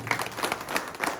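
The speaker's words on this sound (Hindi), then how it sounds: "एक बार जोरदार तालियां गुरु जी।" A brief burst of audience clapping at a live sanitary pad demonstration during a training session in Pithoragarh, with quick, fairly faint, irregular claps over about a second.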